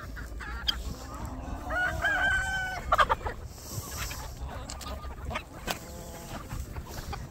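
Backyard homestead flock of chickens clucking continuously nearby, while a rooster crows once in the middle, set over a faint background of outdoor noise.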